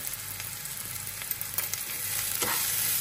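Kashmiri chili powder, turmeric and salt sauté in a hot pan: a steady close sizzle with a few scraping stir strokes and a building hiss, no voices.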